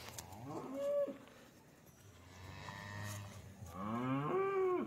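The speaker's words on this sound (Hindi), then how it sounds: "बहुत ही बड़ी गाय है माशाल्लाह।" A Jersey and Friesian cross cow at a dairy farm lets out two drawn-out moos, close and clear, with a quieter pause between them and faint background noise.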